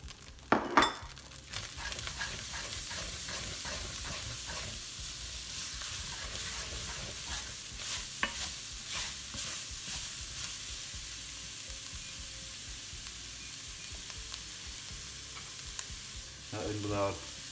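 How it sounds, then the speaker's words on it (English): Chopped onion sizzling and frying in a pan for beef brisket chilli, a steady close hiss with occasional stirring scrapes and crackles running throughout, no voices. "Now in with our chopped onion."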